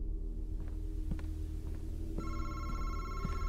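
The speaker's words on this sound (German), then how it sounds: "Telefon!" A telephone rings in the horror video game Madison, a steady electronic bell tone that swells louder partway through over a low humming, throbbing background rumble, with no talking.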